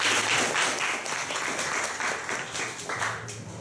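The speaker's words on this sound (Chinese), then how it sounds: "来，掌声欢迎。" Audience applause at a Taichung community self-introduction meetup, dense steady clapping from a room full of people that fills the whole stretch and tapers slightly near the end.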